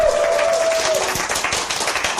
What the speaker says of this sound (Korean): 여러분 자신들을 위해서 박수 한번.